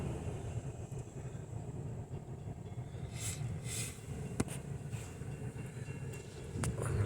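Steady rumble and clatter of a long freight train rolling past nearby, wheels clicking on the rails, with faint hissing bursts and no talking.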